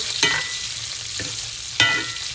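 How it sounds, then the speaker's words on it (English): Fried cabbage, kielbasa and bacon sizzling in a pan while being stirred, with three sharp scraping stirs over a continuous frying hiss, no talking. "give them a really good stir one last time"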